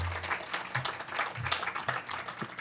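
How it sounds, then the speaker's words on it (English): At an outdoor groundbreaking ceremony for a housing development, a small crowd claps for colleagues' promotions. The claps are scattered and uneven, with individual hand strikes audible over a light background. "I think that deserves a round of applause"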